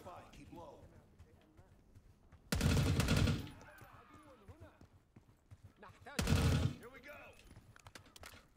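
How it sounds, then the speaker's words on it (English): Gunfire in Call of Duty Black Ops 6 comes in two loud sustained automatic bursts about a second long, separated by quieter game ambience, while a player talks intermittently underneath. "Get out and start shooting them."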